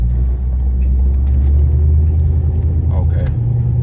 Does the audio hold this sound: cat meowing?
no